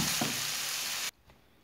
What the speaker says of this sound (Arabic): وفي نفس المقله غنشحر الفلفله بالملح والبزار فقط